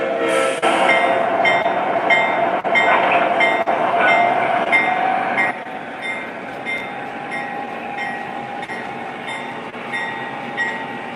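Lionel and MTH model train engine running on a layout, giving a steady, fairly loud rumble with repeated tonal horn-like whistle notes and rhythmic clicks, louder in the first half and then settling lower, with no talking.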